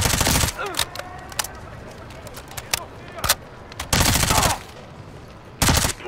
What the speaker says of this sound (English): Khan got a mounted MG coming your way on an armored vehicle.